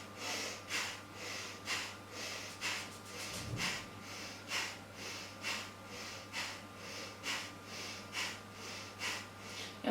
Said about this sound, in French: Et on expire complètement.